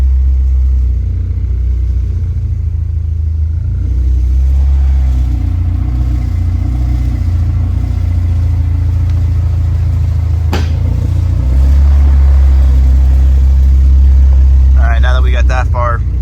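Car with a K24 engine idling in a low, loud rumble, surging once as the clutch engages and the car lurches, with a person talking throughout.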